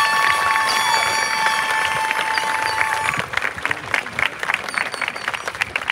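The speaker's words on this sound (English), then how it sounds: "let's give them again one more round of applause" A graduation ceremony crowd gives the parents a round of applause, dense close clapping that thins into scattered claps after a few seconds, with cheering and whistles in the opening moments.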